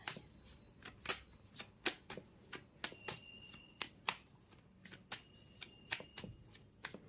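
Tarot cards being shuffled and drawn in rapid, crisp riffling bursts, close and quiet, with a few faint tones in the background.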